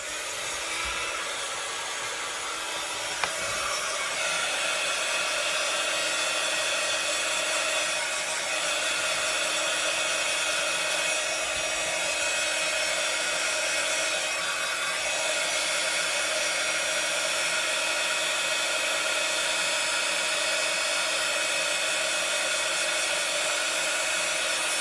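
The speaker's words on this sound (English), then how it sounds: "I'm just going to heat emboss this" Heat embossing tool blowing hot air onto a papercraft lidded box, a steady, even whoosh of fan noise running continuously throughout, with no talking.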